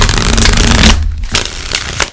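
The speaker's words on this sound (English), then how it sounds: "So let's give this a quick shuffle" A deck of playing cards gets a quick shuffle in an astrology card reading, a dense riffling burst for about a second followed by a few softer flicks and taps, close and alone without talk.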